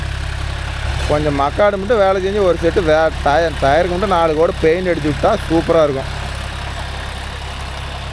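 A John Deere 5104 tractor engine idles with a steady low diesel rumble that runs close and constant throughout, while someone talks over it for several seconds.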